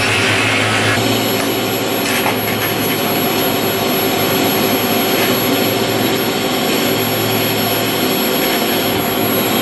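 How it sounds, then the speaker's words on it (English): An angle grinder runs nearby in a welding workshop, a loud continuous high-pitched whine and roar with dense broadband hiss, steady throughout with no pauses. "I'm sorry for all the noise. Someone's just using an angle grinder."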